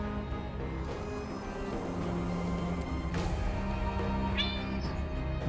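A cat meows once or twice amid a steady background hum, fairly close, with no talking.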